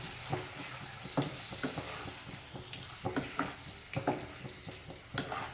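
Small pieces of chicken liver fry in a pan and are stirred with repeated scraping strokes of a spoon over a quiet, steady sizzle. The strokes come in an irregular rhythm, close up, and no voice is heard.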